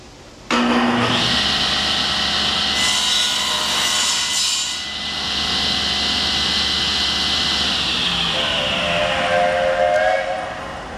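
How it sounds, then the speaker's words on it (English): A steam train at a museum passes with a long, loud hissing whistle and steady mechanical roar that swells and holds for several seconds before easing back. "you can hear the train in the background just going by"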